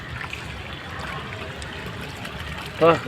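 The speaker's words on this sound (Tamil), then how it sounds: "தண்ணி நல்லா வருது" A steady, faint rush of water runs continuously from a pipe filling a sump after a plumbing fault was found, ending with a brief louder tonal burst near the end.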